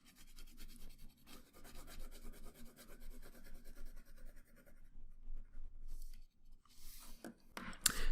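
A pencil shades dark hair on a paper drawing in steady, close back-and-forth scratchy strokes, with brief pauses and a few louder scrapes near the end.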